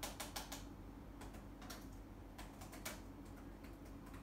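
Computer keyboard typing of a router hostname command, faint, quick, irregular key clicks in short runs over a steady background hiss, with no talking.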